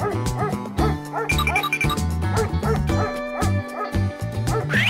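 Repeated cartoonish dog barks and yips sound in a rhythmic pattern over bouncy children's music, with steady tonal backing throughout, loud and upfront.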